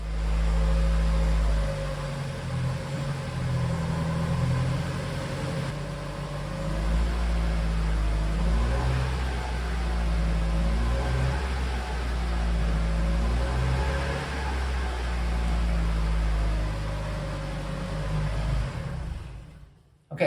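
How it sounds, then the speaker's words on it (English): A 1997 Toyota RAV4 with a Torsen limited-slip rear differential and one wheel lifted, its engine droning steadily at mid revs with rising and falling surges as the wheel spins, loud and continuous throughout. "with one wheel in the air and the limited slip rear differential, you can still get stuck because this is not a locker and it'll spin just like the open differential"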